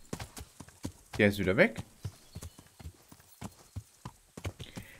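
A horse's hooves clip-clop in the video game Kingdom Come Deliverance, a string of sharp, separate hoof strikes at an uneven walking pace, with a short whinny partway through and someone talking over them.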